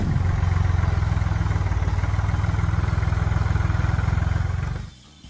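A Massey Ferguson 230 compact tractor from the mid-1970s runs at a steady idle with an even, rapid diesel chug and some clatter. It stays loud and close, then cuts off abruptly near the end.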